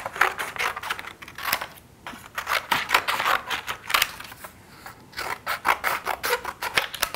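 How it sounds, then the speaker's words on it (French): Scissors snip through paper while a flower collage is cut out, rapid bursts of crisp, close cuts coming in uneven runs with short pauses between them. "vais découper mon pot et les feuilles pour que mon découpage soit plus facile à faire"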